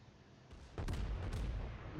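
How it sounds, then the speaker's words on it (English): The Tirpitz battleship fires its first two shells in World of Warships, a loud booming salvo that bursts in suddenly and rolls on as a heavy, sustained rumble. "Firing my first 2 shells"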